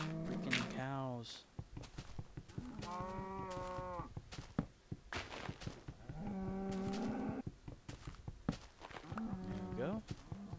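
Several cows in Minecraft let out repeated drawn-out moos in three or four separate bursts, fairly loud, with footsteps and game noises between them.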